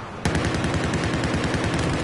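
Rapid sustained rifle gunfire from an M16 semi-automatic in a hardcore tournament shooter match, shots bursting in suddenly after a quarter second of quiet and continuing as a dense, loud, steady rattle.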